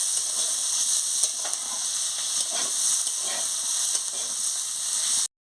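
Onion fries with potato and brinjal in a pan, giving a loud, continuous hissing sizzle with occasional stirring clatter, then stops abruptly near the end.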